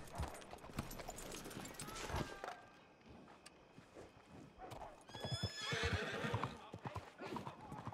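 A horse on a Western-style ranch neighs, and its hooves clip-clop nearby. A voice carries under the hoofbeats, and a louder whinny rises near the end.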